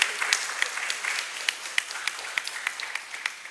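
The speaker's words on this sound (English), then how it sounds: "I request everyone to kindly give a huge round of applause." A fairly sparse round of applause from an exhibition audience, with individual claps standing out distinctly and evenly spaced at moderate distance.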